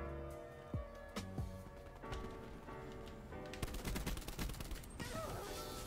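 Gunfire rings out in the Havana map of the shooter game Black Ops 4, starting with scattered single shots and building into dense automatic bursts toward the end, loud and continuous, with electronic game tones underneath and no voices.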